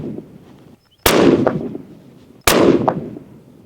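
Two sharp, loud rifle shots about a second and a half apart, each a cracking report with a short ringing tail, fired from an inexpensive rifle using Winchester ammunition.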